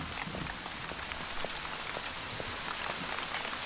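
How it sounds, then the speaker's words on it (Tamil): Steady rain pours down at a roadside tea stop, a dense, loud hiss of drops on surfaces with faint individual patters scattered through, continuous and with no voices. "மழை நிக்கிற மாதிரி இல்லையே, புயல் வரும்னு சொல்றாங்க."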